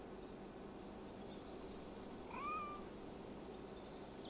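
A cat in the video game Assassin's Creed Valhalla gives a single clear meow midway through, rising then falling, over a constant bed of cricket-like insect ambience.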